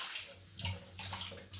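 Dried shrimp are rinsed in water, giving short splashing and sloshing sounds in close, quiet bursts.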